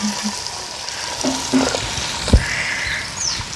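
Mustard seeds, fennel and fenugreek fry in hot oil with a steady close sizzle and scattered pops, a sharp crackle near the end, and faint bird calls in the background.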